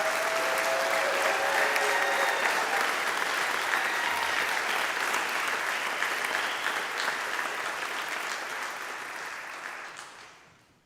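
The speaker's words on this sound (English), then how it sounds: "How about another round of applause for the class of 2023?" A crowd applauds the class of 2023 at a Doctor of Physical Therapy white coat ceremony at the University of Lynchburg. The clapping is full and sustained, then thins and dies away near the end.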